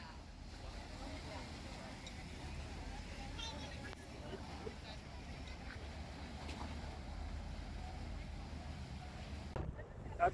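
A boat ride on the water in Hamburg, with a steady low engine rumble and wind buffeting the microphone throughout, no clear voices.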